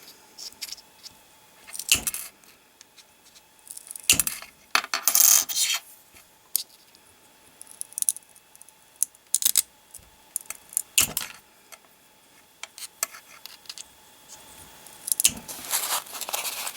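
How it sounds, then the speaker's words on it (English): Irregular sharp cracks and crunchy snaps of broken pottery being nipped with wheeled tile nippers, spaced several seconds apart, with small clinks and rattles between them against a quiet background. "I'm using the wheeled tile cutters that Heidi showed us"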